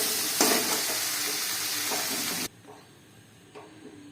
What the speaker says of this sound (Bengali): চিকেনের জলটা আমি পুরো শুকনো করে নিয়েছি, এবার চিকেনটা আমি নামিয়ে নেব।